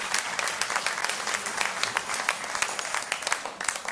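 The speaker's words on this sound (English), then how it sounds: "Give them a round of applause" A church congregation claps together during a Sunday morning service, a dense, steady round of applause lasting a few seconds, close and moderately loud.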